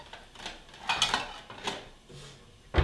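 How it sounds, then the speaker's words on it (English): Plates and cutlery clink and knock as a plate is pulled from a stack of dishes in a home kitchen, a few light taps followed by a louder clatter at the end. "I'm just gonna grab a plate"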